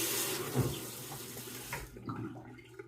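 Water runs from a bathroom tap for about two seconds to wet a Schick Instamatic razor, a steady close splashing flow that cuts off, leaving a few faint drips and handling clicks.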